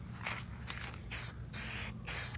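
Aerosol dye sprayed in light coats onto scuffed, cleaned seat belt parts from a 1978 Ford Fairmont: four short hissing bursts of about a third of a second each, separated by brief pauses, close and fairly loud.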